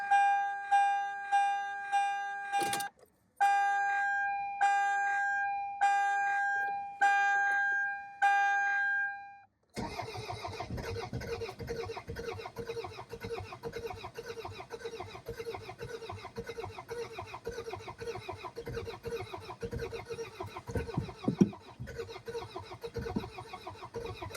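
A 2002 Toyota Camry that has sat unused for over five years first chimes repeatedly with the key cycled, then cranks for a long spell in an uneven, rapid, loud churn as the engine tries to fire.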